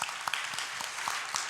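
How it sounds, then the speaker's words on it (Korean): Applause from a church congregation at a discipleship class completion service, a short burst of scattered hand claps, fairly faint and slightly distant, lasting about a second and a half. "박수 한번 보내겠습니다"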